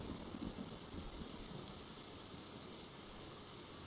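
Steady rain falls in the video game Sons of the Forest, a faint, even hiss that continues unbroken throughout with no voices.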